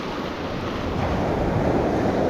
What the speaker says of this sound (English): you got the ocean sounds and the nature